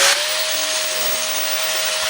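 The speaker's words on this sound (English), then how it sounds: "So what I'm doing is taking my grinder and just grinding a clean area." Grinder grinding a clean spot on metal for welding, a loud steady high-pitched whine with a constant tone throughout, close and uninterrupted.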